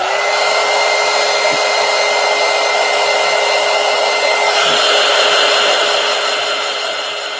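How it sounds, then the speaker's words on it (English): A heat gun blows steadily on a piece of altered collage art, a loud continuous whooshing hum with a constant tone that runs alone for about seven seconds and eases off slightly at the end. "Let me go ahead and hit that with the heat gun."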